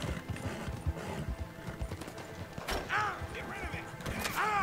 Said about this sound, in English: o cavalo não consegue correr